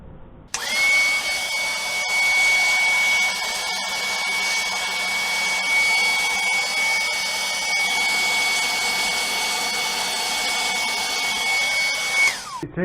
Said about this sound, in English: I need to vacuum that up and use a brush to clean it up